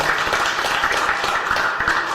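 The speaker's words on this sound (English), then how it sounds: "Give him one more round of applause" An audience gives a brief round of applause, a dense wash of clapping hands throughout, with no voices standing out.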